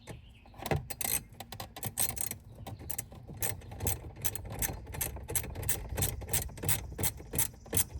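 Ratchet tightening an 8mm bolt during a car radio install, giving quick repeated clicking strokes at a steady rhythm, close and fairly quiet.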